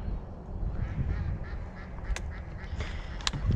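A mallard drake quacks a few short times at a distance over low outdoor rumble and a faint murmur.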